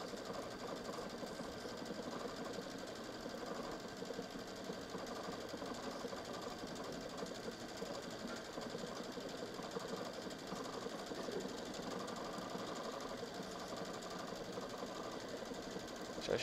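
A Baby Lock Solaris sewing machine stitches a decorative pattern with a steady, even mechanical whir. The hum is quiet and unbroken throughout, with no voices.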